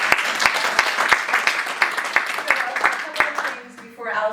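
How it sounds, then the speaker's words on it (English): Audience clapping after an improv group's set, with scattered distinct claps over a murmuring room and voices speaking throughout before the applause fades out. "So let's give them a nice round of applause"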